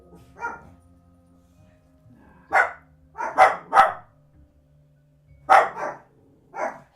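A dog barks nearby in short bursts, one bark, then a cluster of three, then two more, with quiet pauses between them.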